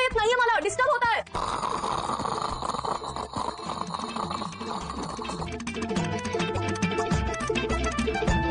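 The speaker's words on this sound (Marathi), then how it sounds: "जोर जोरात घोरत होता तुम्ही" Loud, drawn-out snoring from a man in a Marathi TV serial scene. It plays under background music, with a voice heard briefly at the start.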